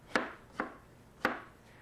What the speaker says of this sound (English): I'm just kind of cutting them up into strawberry pieces, not being super specific